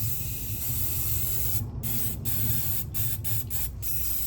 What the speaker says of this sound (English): go outside and give these a good paint with the spray paint.